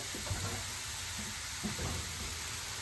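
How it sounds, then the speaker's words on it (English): Pearl oyster mushrooms sizzle steadily in a wok over high heat, a constant hiss with faint crackles and a couple of soft knocks, with no talking. "I'm just going to put the mushrooms right on there. I'm just going to let them cook for a second."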